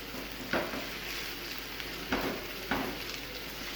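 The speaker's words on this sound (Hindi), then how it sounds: "इसको हम हल्का सा फ्राई करेंगे।" Onion frying in a pan over a medium flame, a steady close sizzle with a few sharper crackles and stirring clatters, no voices.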